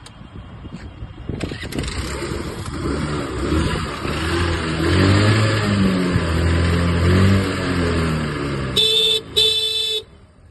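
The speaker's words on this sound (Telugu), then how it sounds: "ఒకసారి ఇంజిన్ కూడా స్టార్ట్ చేసి చూపిస్తా చూడండి" A 2018 Hero Duet scooter engine cranks and catches, then idles with a steady throb and a brief rev; a couple of short horn toots sound near the end.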